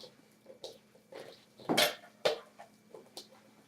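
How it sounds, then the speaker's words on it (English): Spaghetti, chives and meat being mixed in a big bowl, a few soft wet squishes and scrapes at an irregular pace, close and fairly quiet. "We're going to mix this all up and make sure all of this gets embedded in the pasta"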